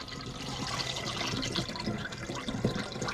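Juice pours through a funnel into a half-gallon fermentation jug for homemade wine, a soft continuous gurgling trickle with small splashes, close and fairly quiet.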